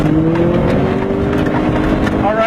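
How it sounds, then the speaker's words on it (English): A manual-transmission car launches and accelerates, its engine note climbing steadily in pitch as revs build, loud and close, with a voice talking over it. "Now simply launch the car like I told you earlier."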